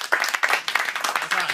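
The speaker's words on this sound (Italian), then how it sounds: "applauso a tutte le guardie giurate" Short burst of crowd clapping for security guards at a May Day outdoor event, irregular claps close by with voices mixed in.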